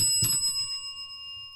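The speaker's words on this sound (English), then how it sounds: "I got my cussing bell right here, baby." A small handheld cussing bell rung once or twice up close, a bright metallic ding that rings out and slowly decays into near silence.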